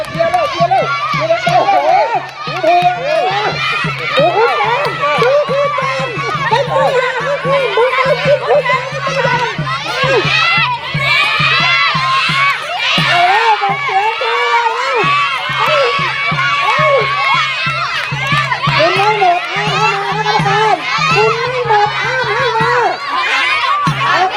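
Children cheering and shouting at a school eating-obstacle race with teachers and parents, a loud, continuous babble of overlapping voices, with sharp shouts throughout.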